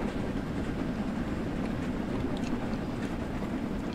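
A steam locomotive pulling the Hogwarts Express on the Northern Trans Pennine route in Train Sim World 2 runs at full power, a dense continuous rumble with a steady low chuffing roar and no voices.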